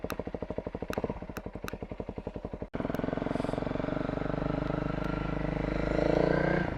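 A motorcycle engine idles close by with a rapid, regular thumping, then a sharp clunk is followed by the engine revving and pulling away with a rising, sustained roar.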